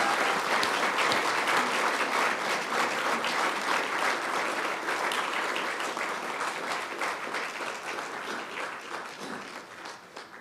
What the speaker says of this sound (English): Would you please give him an incredible round of applause?